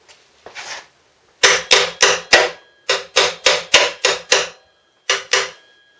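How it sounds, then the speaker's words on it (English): Sharp metallic hammer blows drive a freshly welded mount into place on a motorcycle, a quick burst of about ten close, loud strikes in uneven clusters with short pauses between groups. "Hammer it into place after it's welded"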